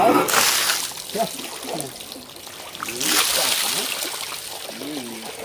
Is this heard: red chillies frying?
no